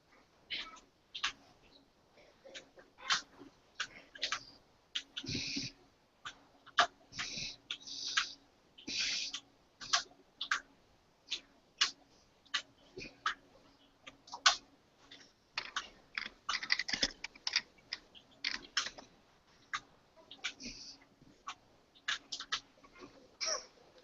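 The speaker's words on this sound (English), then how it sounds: "I'm just typing in my thoughts real quick." Typing on a computer keyboard, soft irregular clusters of key clicks in quick bursts with short pauses, faint and close throughout.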